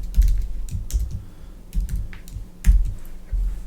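Fingers tap keys on a computer keyboard in short irregular bursts, close and crisp, with brief pauses between clusters of keystrokes.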